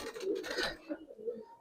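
Female Giribaz pigeon sitting on eggs gives short soft coos and rustling pecks up close, a brief cluster of bird sounds that fades into quieter low murmuring.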